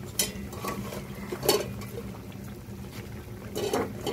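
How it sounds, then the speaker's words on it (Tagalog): Water with mussels and chili leaves bubbling in a pot, a low steady simmer with occasional clinks of a utensil against the pot, close and quiet, no talk. "Lagyan natin ng konting tubig. Hayaan natin kumulo. Ayan, kumulo na"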